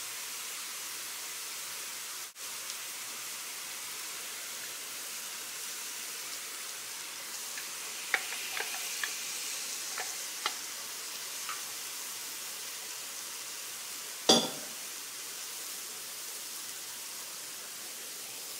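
Pork and bok choy stir fry with seasoning liquid steams and sizzles in a cast iron pan, a steady soft hiss throughout with a few faint clicks and one sharp clatter near the end.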